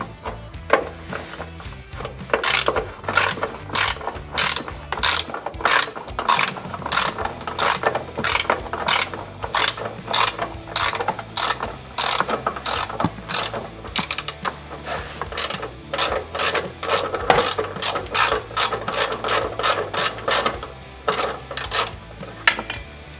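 A ratchet wrench clicks steadily as it undoes an inner bolt holding the side steps on a Lexus GX470, with rapid, evenly spaced pawl clicks close up that run almost continuously for the length of the clip.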